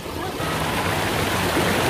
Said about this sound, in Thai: เรามาเล่นน้ำตกตาโตนที่ชัยภูมิครับ